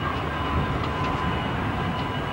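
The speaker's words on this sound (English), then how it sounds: "a traffic jam of these huge coal trains waiting to approach Bill" Huge coal trains waiting near Bill give off a continuous low rumble with a steady mechanical drone, moderately loud and unbroken, with no speech.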